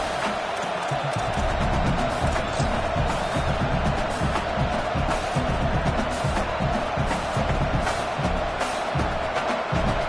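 Football stadium crowd before a field goal attempt, a loud sustained roar of thousands of fans with cheering and whoops swelling throughout, steady and enveloping.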